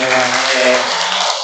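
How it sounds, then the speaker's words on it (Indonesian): Classroom applause from students after a teacher praises their achievements, a steady broadband patter of clapping hands with faint tonal voices mixed underneath. "tepuk tangan semuanya"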